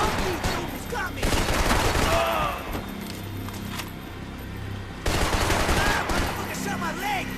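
Gunfire from a shootout with police in the video game Max Payne 3, dense crackling bursts of shots near and loud, with a lull in the middle before heavy firing resumes, amid shouting and game music.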